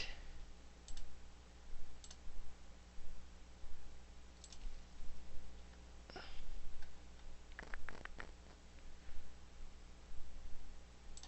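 Sparse, sharp mouse clicks on a computer while working in Quixel Suite 2.3 material software, a few isolated clicks spread across a steady hum, with no talking.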